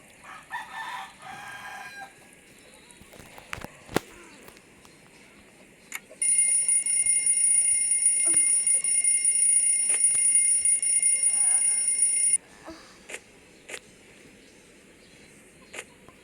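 An alarm clock rings with a steady, shrill electronic tone held for about six seconds. Scattered clicks and faint household sounds come before and after it.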